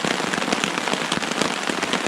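Rain patters densely on a camp tarp at Sixth Lake in the Essex Chain Lakes, a close, steady hiss of countless drops with tiny irregular ticks and no voices.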